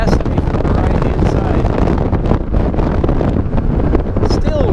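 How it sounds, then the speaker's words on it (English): Loud, constant wind buffeting a microphone during a ride, a roaring rumble with gusty swells throughout the whole stretch. "you hear that wind? Lord, it's just blasting me from the right-hand"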